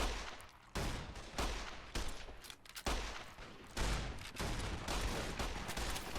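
Dense gunfire and laser shots rage in a Fallout video game mod battle: continuous overlapping bursts of rapid firing, loud and chaotic, with brief gaps between volleys.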